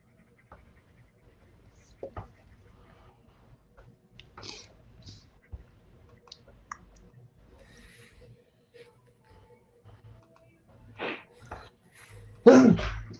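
A short, sharp sneeze bursts out loudly near the end, after scattered quiet rustles and soft breathing sounds.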